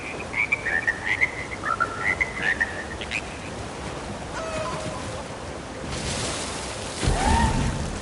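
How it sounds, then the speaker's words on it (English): Frogs croak in the Elder Scrolls Online game, a rhythmic run of bright trilling calls at first, then watery splashing and ambience rising toward the end. "My beautiful frogs."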